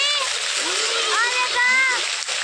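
Children splash about in the water at a scenic family outing spot, a steady wash of splashing with high children's voices calling over it throughout.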